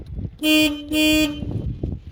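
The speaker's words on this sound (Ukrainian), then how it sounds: "Сигнал." The horn of a DongFeng 244DG minitractor sounds two loud, close honks of about half a second each, separated by a brief gap, followed by faint engine and handling noise.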